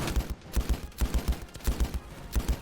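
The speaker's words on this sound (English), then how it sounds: "Buddy, shoot that tank gun." Rapid bursts of tank gunfire from the video game Ravenfield, a steady rhythmic string of punchy, booming shots repeating several times a second, close and loud, with no voices.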